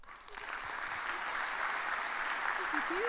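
Audience applause fills a hall at a hackathon on the DSAG Technology Days, a steady, even wash of many hands clapping at moderate volume without a break.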